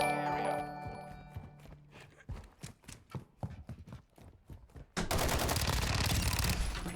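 Gunfire in Modern Warfare 2: a rapid string of sharp, evenly spaced shots ringing out near and loud, followed by a dense roaring burst of fire and noise to the end.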